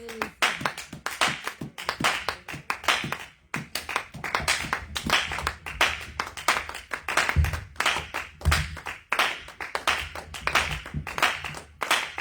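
Worshippers clapping during a mountain prayer gathering, loud rhythmic handclaps from a group, close and continuous with brief pauses, and faint voices underneath.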